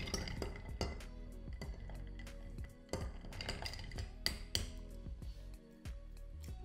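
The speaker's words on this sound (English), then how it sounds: "you give it a little stir" Ice cubes clink and rattle against a rocks glass as a Black Russian cocktail is stirred, giving quiet, irregular chimes and knocks with no talking.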